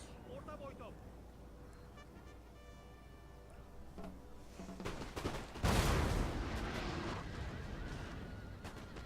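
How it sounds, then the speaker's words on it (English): Musket volley fire from massed line infantry in Napoleon: Total War, opening on cavalry, builds into a loud crackling roar that peaks midway and then rumbles on, with a voice talking over the early part. "open fire on that cavalry"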